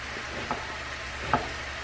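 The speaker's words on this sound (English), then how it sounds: "We're gonna fry these up" Diced vegetables fry in a pan, giving a steady, even sizzle throughout with two light clinks of a utensil against the pan, and no one talking.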